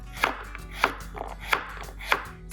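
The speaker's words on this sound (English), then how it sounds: "now I'm gonna go ahead and cut my butternut squash" A knife chops through butternut squash on a cutting board in four firm, evenly spaced strokes, each a crisp thud with a slight scrape. Nobody speaks.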